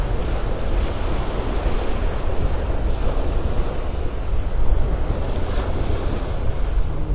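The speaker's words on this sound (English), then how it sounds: "I can tell you the water's definitely going to be churned up here." Churned-up Gulf of Mexico surf at Delnor-Wiggins beach in North Naples, Florida, with steady onshore wind buffeting the microphone over a continuous roar of breaking waves.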